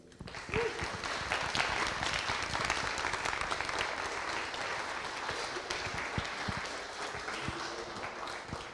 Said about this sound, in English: Another big round of applause, please, for them.